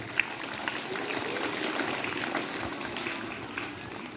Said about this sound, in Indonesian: Mari kita tepuk tangan untuk kalian.